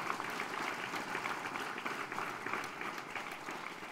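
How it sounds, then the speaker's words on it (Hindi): Soft, steady applause from an audience welcoming a guest at a national seminar on ancient and spiritual sciences, a faint, distant-sounding wash of clapping that holds evenly without fading. "आप लोगों से निवेदन है कि तालियां बजाकर उनका आप स्वागत करें"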